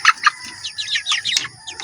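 Broiler chickens eating greedily at a farm, a close cluster of short clucks and chirpy calls in quick irregular bursts, with faint pecking thumps underneath.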